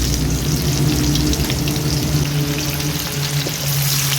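Whole garam masala and chopped onion dropped into hot oil for a catla kalia, giving a loud, continuous spattering sizzle with a low steady hum beneath, close and unbroken by any voice.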